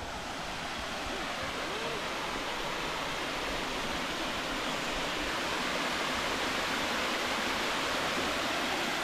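Waterfall pouring down a mountain ridge on an island, a steady, loud, full rush of falling water close by that holds constant throughout with no break or voice.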